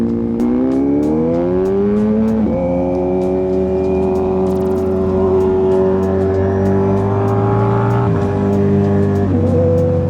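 A motorcycle exhaust revs hard and climbs through several gear changes, loud and close, with faint clicks over the engine and no speech.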